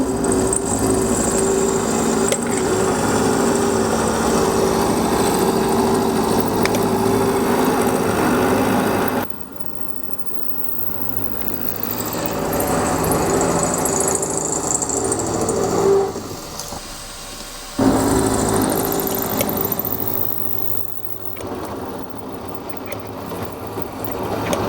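A slot cutter machines a T-slot groove in a faceplate, a steady mechanical drone and rumble of the running machine close by, with a few sudden drops and shifts in level as the cut proceeds.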